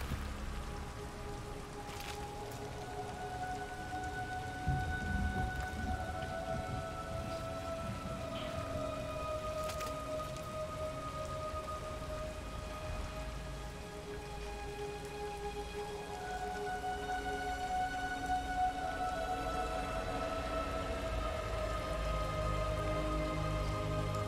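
Steady heavy rain from the Detroit: Become Human video game falls continuously under a sustained musical score, with low rumbling in the background and no talking.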